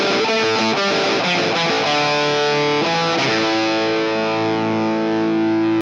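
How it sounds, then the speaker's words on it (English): Electric guitar played through a Joyo BAATSIN overdrive pedal, giving a gritty, crunchy drive between overdrive and distortion; loud strummed chords and picked notes ring out alone, ending on a long sustained chord that cuts off. "this one sort of bridges a gap between an overdrive and a distortion"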